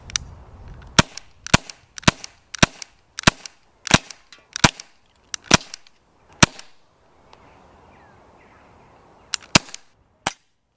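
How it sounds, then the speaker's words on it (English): A Walther CP99 CO2 air pistol fires repeatedly at reactive targets such as tin cans and bottle tops, a string of sharp, loud cracks at an irregular rhythm with brief gaps and a short lull before the last few shots. "To get the most out of this gun, you really want to be shooting reactive targets, like tin cans and bottle tops."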